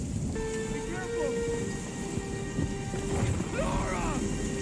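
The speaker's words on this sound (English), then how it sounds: "So there's this big storm, and Laura falls out of the boat" A thunderstorm with steady rain fills a film scene, a continuous wash of rainfall under low rumbles, with a sustained tone and brief cries rising over the noise.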